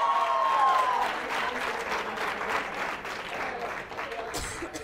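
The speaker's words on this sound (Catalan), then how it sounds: "Molt bé, un aplaudiment" Studio audience applauding on a Catalan quiz show, dense clapping that starts strong and gradually tapers, with a voice briefly speaking over the start.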